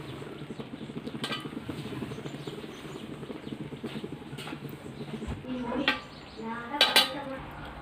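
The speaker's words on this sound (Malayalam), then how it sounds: "ചോറ് കുറേശ്ശെ നിരത്താം." A metal spoon scrapes and clinks against a pot while cooked rice is spooned over chicken masala for Kozhikode chicken biryani, with soft repeated clatter throughout and louder clanks near the end.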